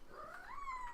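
A cat gives one drawn-out rising and falling meow, faint and a little distant, with no talk over it.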